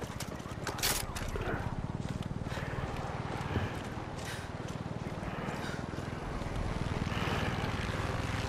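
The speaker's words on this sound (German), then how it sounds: "Der scheiß Heli ist das, der mich die ganze Zeit nervt" Helicopter in the video game Far Cry 6, its rotor chopping in a loud, steady rhythmic thump that continues for the whole stretch alongside other game sounds.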